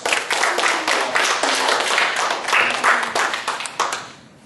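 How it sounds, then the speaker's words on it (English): Spectators at a small-town rodeo clap for a rider, a burst of fairly close, crisp hand clapping with individual claps distinct that gradually thins out and fades. "And now her applause."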